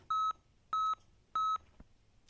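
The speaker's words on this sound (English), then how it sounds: "my alarm goes off" An alarm clock going off in the morning: three identical electronic beeps, each about a quarter second long, evenly spaced in a steady rhythm, loud and close with near silence between them.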